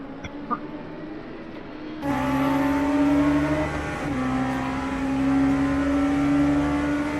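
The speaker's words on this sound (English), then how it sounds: "as they get through Ed Jones in the red and black Porsche" Race cars in the LMU sim racing video game, multi-class racing at Spa, roar through as a steady engine whine that jumps louder after a couple of seconds, with shifting pitch as cars accelerate, and no talk.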